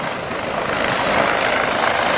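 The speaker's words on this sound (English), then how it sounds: "So here we are watching a helicopter land on our driveway." Helicopter landing in a parking lot near the camera, a loud, steady broadband roar of rotor wash and turbine that swells slightly as it comes down, with no speech.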